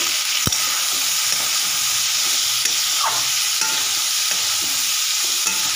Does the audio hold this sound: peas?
yes